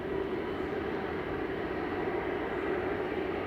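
An EasyJet Airbus A320 departing Manchester Airport, a constant distant engine rumble with a low steady hum, fairly faint and even with no voices over it.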